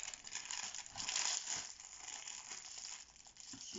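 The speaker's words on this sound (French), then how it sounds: "excusez-moi pour ce bruit de sachet" A plastic packet for diamond painting supplies crinkles and rustles close by as it is handled and pulled open, with steady, soft, continuous crackling and no talk.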